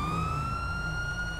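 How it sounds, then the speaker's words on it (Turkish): Police car siren in the GTA 5 video game wails steadily and loud throughout, a sustained rising tone with harmonics over low engine rumble, no talking. "Olay olmadan basmasın o sireni."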